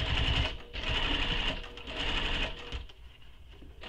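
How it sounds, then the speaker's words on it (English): A sewing machine stitches a seam on a sling pack in steady whirring bursts, running close and loud with brief pauses between runs. "sew this with the seam allowance given in the pattern"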